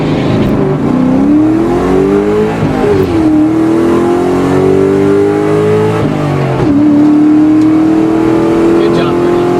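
A Ford Mach 1 engine revs at a race track, a loud, close, continuous roar that swells and settles across several rev changes, with a voice talking over it.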